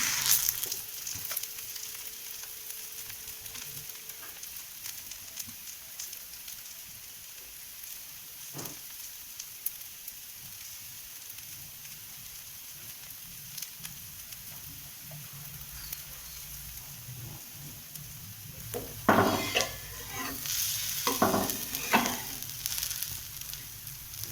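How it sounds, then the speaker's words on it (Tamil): Rava dosa cooks on a low flame, giving a steady, soft sizzle throughout, with a few brief clattering bursts toward the end. "கொஞ்சம் தீ சிம்மில் வச்சுருங்க, இல்லாட்டி தோசை தீஞ்சு போயிடும்"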